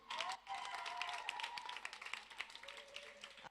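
A church congregation claps and applauds in a short, dense burst that gradually thins out, with voices and a sung tone mixed in.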